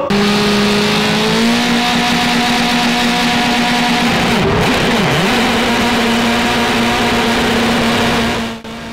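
Formula race cars at round 1 of the 2013 NSW Formula Race Car Championship scream past on the track, a loud sustained engine whine that rises and falls as cars pass close by, with no talk.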